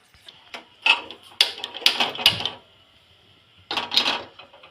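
A kadai clanks onto a stove for a dhaba-style Punjabi paneer dish, with several sharp metallic knocks and scrapes in quick bursts, then a pause and another short clatter.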